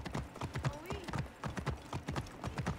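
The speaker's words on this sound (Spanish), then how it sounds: "Que voy yo a caballo." Horse galloping in the video game Assassin's Creed Origins, with rapid, steady hoofbeat clip-clops close up and a brief whinny-like sound partway through.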